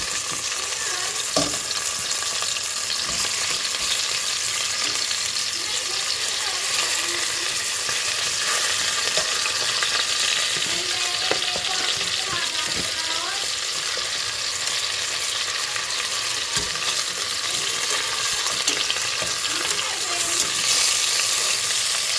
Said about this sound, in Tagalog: Isi-sear mo muna siya ng konti.